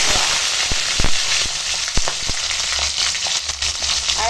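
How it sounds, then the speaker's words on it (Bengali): Mustard oil sizzling hard in a hot pan as nigella seeds and green chillies go in, a loud steady crackle with sharp pops and spits throughout. "এখন সরিষার তেল গরম হয়ে গেছে, দিয়ে দেবো কালো জিরে ফোড়ন, আর তার সঙ্গে দেবো কাঁচা লঙ্কা"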